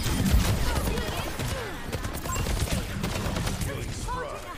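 Soldier 76's rapid gunfire aimed at Roadhog in the Overwatch 2 video game, bursts of shots crackling under excited talk from a player.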